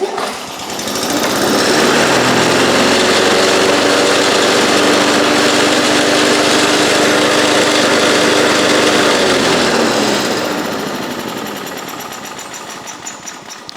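A revived dormant lawn mower engine runs loud and close at a steady buzzing roar for about ten seconds, then winds down and fades.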